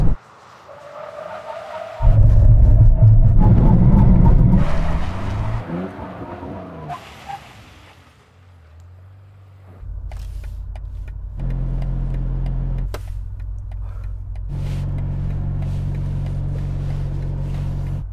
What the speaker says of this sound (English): Brake test from 160 kilometers an hour. When we reach the cones, full emergency stop.